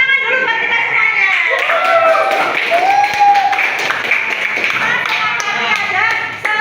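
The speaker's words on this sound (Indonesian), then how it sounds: "Tepuk tangan dulu buat kita semuanya." An audience at a teacher training dissemination session in Banjarnegara breaks into loud, dense clapping that carries on without a break, with voices calling and talking over it throughout.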